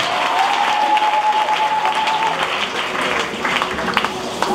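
A church congregation applauds and cheers in a steady, dense wash of clapping that holds loud and even throughout, with scattered voices mixed in.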